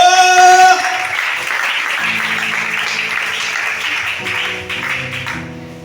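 A church congregation applauds during a Sunday worship service in Libreville, Gabon. Dense, sustained clapping from many hands follows a brief musical tone at the start and fades slightly toward the end.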